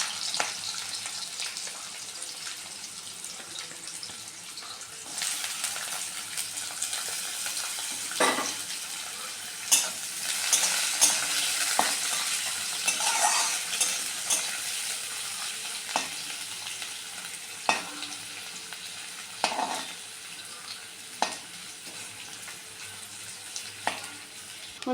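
Chopped carrots sizzle steadily in hot oil for fried rice, with a continuous crackling hiss broken by repeated scraping taps of a spatula stirring the pan.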